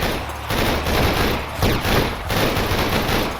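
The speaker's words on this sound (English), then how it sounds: "I'll try shooting from here so I don't keep hitting the blocks." Rapid automatic gunfire fires at zombies in a survival shooter, loud and close in dense overlapping bursts with brief gaps, and no speech over it.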